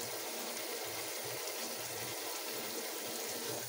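A Frigidaire washing machine fills with warm rinse water in a steady, loud rush of water that runs unbroken from start to finish.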